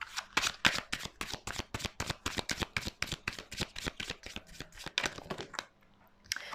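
Tarot cards being shuffled by hand: a rapid, steady run of crisp riffling slaps, close and fairly loud, continuing for several seconds before stopping, with no talking.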